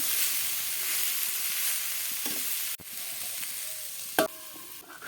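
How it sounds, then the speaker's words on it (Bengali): Green beans and potatoes, salted, cooking covered over low heat in a pan, giving a steady soft sizzle with a few brief clinks and a sharper knock near the end; no voices. "এরপর হালকা আঁচে ঢাকা দিয়ে দিয়ে রান্না করে নেব"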